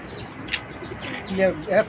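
Pigeons of foreign bloodline, including Belgian stock, coo softly in a loft, with faint chirps and rustling between low calls, a few brief louder coos near the end.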